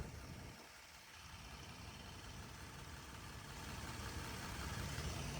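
A 2013 Ford F150 STX pickup with about 103,000 miles idles on its small, non-direct-injection engine, a steady, even rumble with a mild broadband hiss that holds level for the whole stretch, with no talking.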